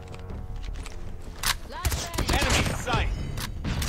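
An MP5 submachine gun fires in Call of Duty Mobile, irregular bursts of shots cracking under someone talking over the game's background noise.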